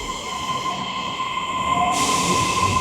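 A Fukuoka subway train running on the orange line, heard from inside the carriage as a loud steady rumble with a high whine and hiss that swell toward the end, and no talking.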